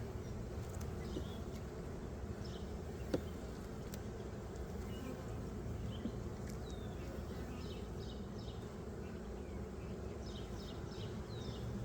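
Honey bees hum in a dense, steady drone around an opened hive frame during a swarm-prevention split, close and continuous, with a few faint clicks and knocks over it.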